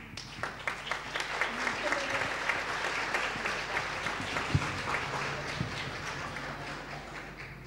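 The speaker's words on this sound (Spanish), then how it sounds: "Y lo recibimos a Cristian con un aplauso" An audience at a lecture on technology, body and culture gives sustained applause to welcome the speaker, a dense patter of many hands clapping.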